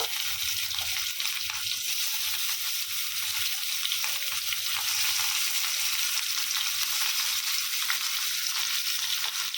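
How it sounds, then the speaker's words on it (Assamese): Rohu fish frying in oil in a pan, a dense, continuous sizzling hiss that stays even throughout, close and moderately loud with no talk. "মাছটো ভাজি লওঁ, ৰৌ মাছ।"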